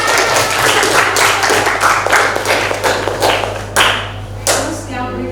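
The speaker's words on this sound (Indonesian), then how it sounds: "Kita beri aplaus." Applause from a classroom audience, a burst of many hands clapping close by, loud and dense at first, then thinning into scattered claps toward the end.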